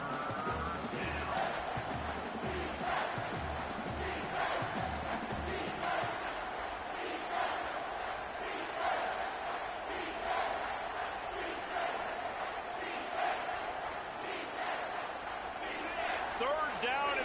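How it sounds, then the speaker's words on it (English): A football stadium crowd roars steadily through a defensive play, a dense, loud wall of cheering that persists for the whole stretch, with an announcer talking over it. "this crowd is turning it up a notch"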